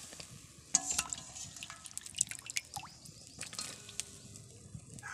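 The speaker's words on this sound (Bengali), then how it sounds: "এরপর কেটে রাখা কুঁদরিগুলো জলে দিয়ে দিচ্ছি" Sliced ivy gourd pieces dropped into a pot of turmeric water, a faint run of small splashes, drips and clinks in a quiet kitchen, with no talk.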